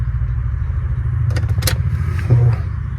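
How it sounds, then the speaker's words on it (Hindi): A Mahindra Scorpio S10 SUV, eight years old with about 90,000 km on it, runs with a steady low engine rumble close by. A brief clicking clatter comes in the middle, and a short louder surge follows near the end. "अब मैं इस गाड़ी को स्टार्ट करता हूँ"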